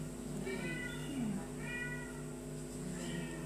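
Domestic cat in a dormitory meowing about three times in drawn-out, rising calls, moderately near over a steady background hum.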